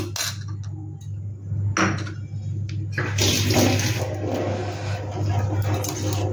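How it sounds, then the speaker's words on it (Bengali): A kitchen tap runs for hand washing during cooking, a steady close rush of water over a low hum that swells louder partway through. "তোমরা হয়তো ভাববে বারবার কল খুলছি"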